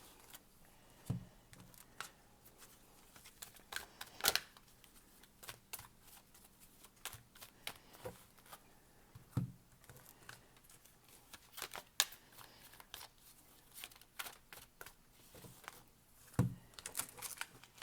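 A deck of tarot cards is shuffled by hand, giving a quiet, steady run of crisp riffling and tapping clicks with no voices.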